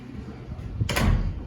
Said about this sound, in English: Got a lockable door, so that's kind of cool. Got that in on the last trip, steel door.